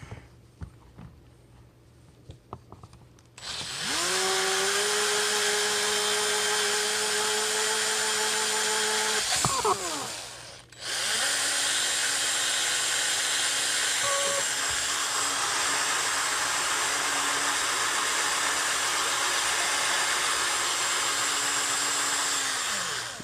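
A power tool sands an engine valve with 2000 grit, a loud whirring drone with a steady pitch that starts after a quiet moment, breaks off briefly partway through, then resumes and runs evenly to the end.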